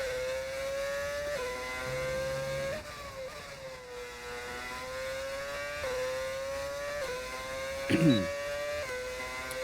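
Modded race car engines in an F1 video game, on reverse Silverstone, whine through repeated upshifts with a stepped, rising pitch, moderately quiet, with a brief burst of engine noise near the end and no talk.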